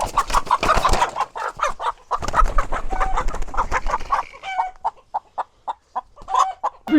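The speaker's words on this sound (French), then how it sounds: "Une poule. Regardez-moi ça." A hen clucks repeatedly up close in quick, choppy bursts, with a few sharper squawks near the end.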